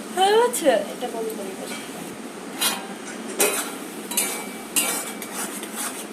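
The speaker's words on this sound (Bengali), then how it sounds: "পাস্তা দিয়ে দিয়েছি এখন সুন্দর করে এটা এইভাবে নাড়াচাড়া দিয়ে কিছুক্ষণ কষিয়ে নেব" Pasta being stirred in a cooking pan gives a steady scraping and clinking of a utensil against metal, with soft repeated strokes and a faint background hum while someone talks over the top.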